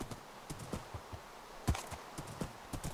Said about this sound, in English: Giddy up, horsey!